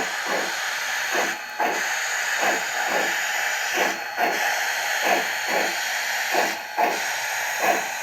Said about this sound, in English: F4 is the steam being released out of the steam chests